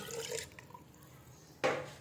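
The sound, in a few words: water poured into a cooking pot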